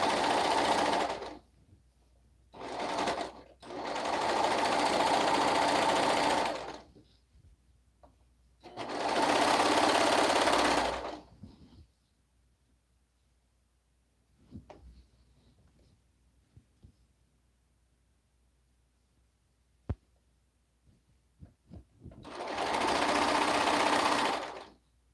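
A sewing machine stitches in several bursts of steady rapid whirring, some short and some lasting several seconds, separated by quiet pauses with faint handling clicks, recorded close up.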